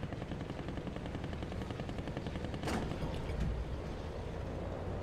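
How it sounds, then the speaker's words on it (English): Aircraft machine-gun fire strafing the player in the War Thunder combat game, a sharp burst rising out of a steady loud background of engine and battle noise, followed by a brief rumbling impact. "plane decided to shoot at me."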